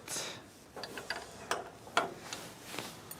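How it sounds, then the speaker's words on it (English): Lock nut being tightened on a Logosol chain sawmill, giving a series of close, sharp metallic ratcheting clicks at an uneven rhythm, alone without talk. "when we're happy with the setting, tighten the lock nut"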